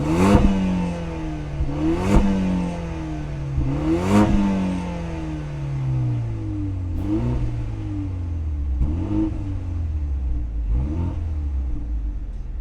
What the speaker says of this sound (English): So give it a few revs so you can kind of see what's happening right here.